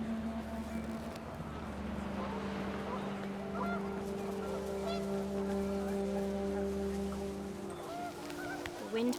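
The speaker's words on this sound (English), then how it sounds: "The wind picked up and panicked geese appeared and quickly went." Panicked geese honk repeatedly in What Remains of Edith Finch, a cluster of overlapping nasal calls over steady wind and a low droning background that fills the whole stretch.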